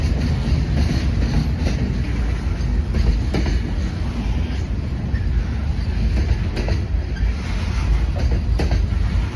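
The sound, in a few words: CSX freight train hauled by locomotive passing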